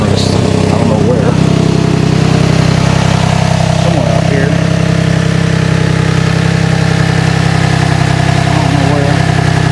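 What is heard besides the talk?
Toyota Sienna engine running with an exhaust leak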